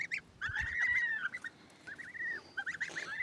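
Several geese give honking, wavering calls up close, overlapping and repeated, with soft flapping or shuffling in between.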